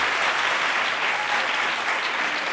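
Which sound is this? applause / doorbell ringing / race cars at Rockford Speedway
applause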